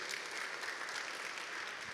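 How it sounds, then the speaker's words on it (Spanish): Church congregation clapping during an evening Spanish-language worship service, a continuous soft wash of many hands heard at a distance and fairly faint. "dele palmas al Señor en esta noche."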